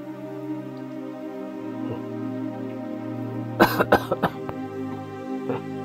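A short burst of several coughs in quick succession, fairly close, over a steady low background hum.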